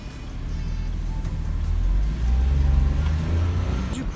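Steady low engine rumble inside a waiting parked car, continuous and fairly loud throughout with a slight swell midway, no talking.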